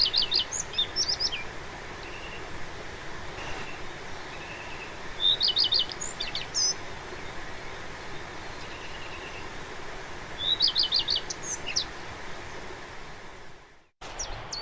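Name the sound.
recorded woodland songbird song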